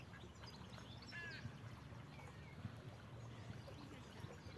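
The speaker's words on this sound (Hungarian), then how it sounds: "még kis kacsa, vagy kacsa is van" Ducklings and ducks by the water give a few quiet, short quacks and peeps over steady outdoor noise and a faint trickle of water.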